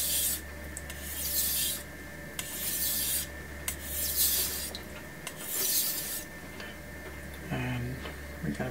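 A knife blade is rubbed back and forth on Suehiro Debado whetstones in a steady series of quiet rasping strokes with short pauses between them, close up and with no speech.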